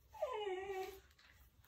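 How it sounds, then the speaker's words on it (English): A dog gives a single close, high whimper lasting about a second, a rising then falling plaintive whine while it asks to be let inside, followed by a short quiet pause. "my doggie is asking to come in."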